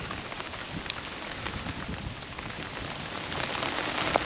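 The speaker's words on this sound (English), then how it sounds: "because it's raining" Steady rain patters down outdoors at a carp fishing spot, a dense, continuous hiss with scattered drop hits that swells slightly louder toward the end, with no voices.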